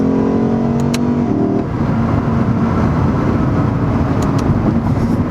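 A 2022 Lexus IS500 Performance Launch Edition sedan, traction control switched off, pulls hard with its wheels spinning: a loud, steady engine roar with rising harmonics early on, heard from inside the cabin with no one talking.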